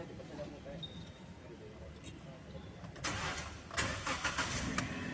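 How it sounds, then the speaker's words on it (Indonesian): A car's engine starts during a periodic service check with the car up on a workshop lift, rising from a quiet background into a louder, steady running sound. "Lalu coba kita nyalakan mesin kembali."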